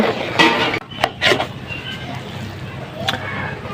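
A utensil scrapes and knocks against a pot while basmati rice and meat biryani is stirred up from the bottom, a few close clattering strokes and scrapes with quieter shuffling of the rice in between.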